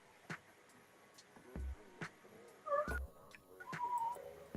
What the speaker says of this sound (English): She has the most adorable little meow.